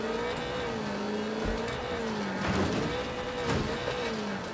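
Mazda MX-5 engine revving hard in the Wreckfest 2 racing game, a steady loud drone with rising and falling pitch sweeps as it accelerates, continuous throughout with no talk.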